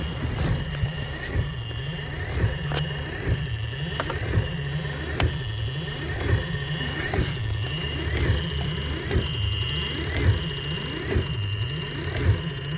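A refreshed MGB windshield wiper motor runs alone in a steady, even whir with a regular rhythmic cycling as the wiper linkage sweeps back and forth, close and moderately loud.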